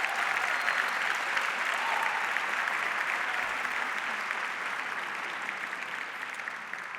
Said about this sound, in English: please give your family and friends and our faculty and staff a round of applause